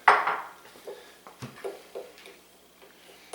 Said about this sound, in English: I'm just going to work it with a fork.